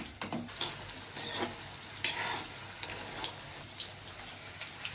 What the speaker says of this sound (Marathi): त्या तेलामध्ये आता भाज्या तळून घेणार आहे. सगळ्यात पहिलं गाजर.